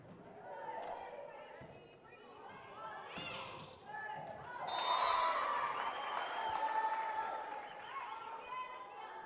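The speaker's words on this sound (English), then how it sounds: "Crowd's cheering pretty good." Crowd cheering and applauding in a gym during a junior high school volleyball tournament match, a steady roar of voices that swells louder midway, with ball contacts and a commentator talking over it.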